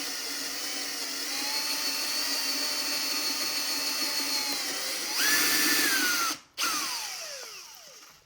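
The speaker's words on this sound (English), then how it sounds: "Let the drill do the work, don't push." A power drill whirs steadily, then its pitch rises as it bites into a pumpkin, cuts out briefly and spins up again; close and loud, no talking.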